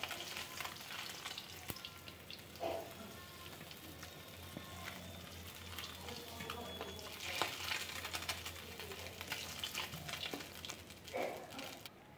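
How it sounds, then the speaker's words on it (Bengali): Shingi fish fry in hot oil in a wok with a steady, soft sizzle and crackle. A few louder spits of oil rise above the continuous hiss. "এখানে দেখো মাছগুলো ভাজা হয়ে গিয়েছে"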